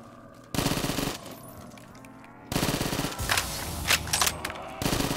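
A gun fires in a zombies video game, with rapid automatic bursts of near, loud shots in several separate volleys, quieter pauses between them and faint talk in the background.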